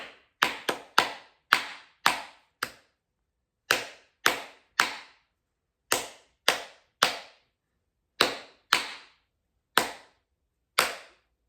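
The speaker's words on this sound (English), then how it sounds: "You can clap and it turns gelatin on." Hands clapping to switch on a gelatin jelly lamp: about fifteen sharp, dry claps at close range, arranged in quick clusters of two to four with brief silent gaps between them.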